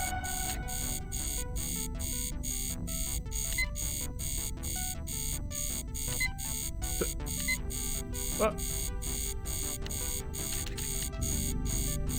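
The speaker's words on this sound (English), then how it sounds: "It won't stop beeping." Continuous electronic alarm beeping from a video game, Mission Critical, with rapid regular pulses repeating steadily throughout over a background hum.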